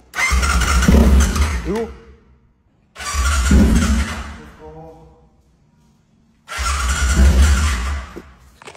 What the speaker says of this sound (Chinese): 现在油也加了，电也通了，可以尝试启动了